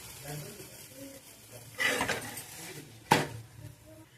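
A potato paratha flipped in a pan with ghee gives two distinct clattering knocks of the utensil against the pan, with soft frying and someone talking throughout.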